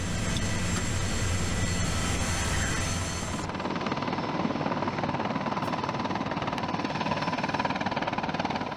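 The world's biggest helicopter roars steadily in flight, a dense, loud, continuous rotor and engine drone that shifts in tone partway through and holds unbroken to the end.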